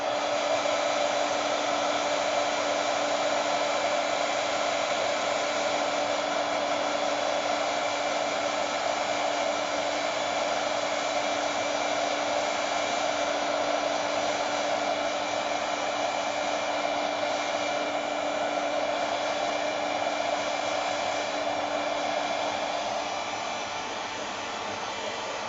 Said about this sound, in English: I'm going to use, I think, my heat tool